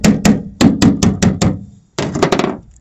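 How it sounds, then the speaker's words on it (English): Steel hammer striking the metal bodywork of a 1975 Cadillac Fleetwood: a rapid run of loud, ringing knocks at a steady beat, a brief pause, then another quick cluster of blows close by. "Hammer out, hammer in."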